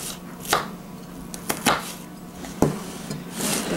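Onion being chopped with a knife on a cutting board for stuffing, a few sharp, irregular close knocks over quiet room tone.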